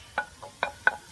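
Tomatoes and onions being stirred and turned in a Saladmaster pot over low heat on a charcoal stove, cooked with no oil; three or four soft scraping strokes, close and quiet.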